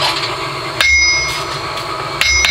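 A blacksmith's hammer rings on hot metal at a forge, with two sharp metallic strikes standing out over steady background noise and a faint ringing tone, no talk.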